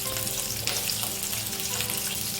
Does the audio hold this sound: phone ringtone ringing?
no